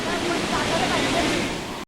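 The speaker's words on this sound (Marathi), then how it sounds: "काय बघू शकता हा धबधबा" A waterfall near Pen in Raigad roars with a dense, steady rush of falling water, loud and unbroken for a brief moment before cutting off.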